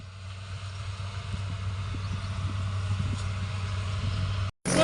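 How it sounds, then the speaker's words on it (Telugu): A tractor hauling grain rolls through a harvested paddy field, its engine a steady low drone that stays close and even throughout before cutting off sharply near the end. "ఇక్కడ నేను ఈ ట్రాక్టర్లో నేను వెళ్తున్నాను, గింజల ట్రాక్టర్లో"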